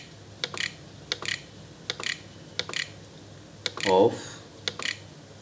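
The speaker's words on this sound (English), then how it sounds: "just go to Google and just type here" Typing on a computer keyboard, a sparse series of crisp close key clicks in small pairs and clusters at an irregular pace, with a brief spoken word in the middle.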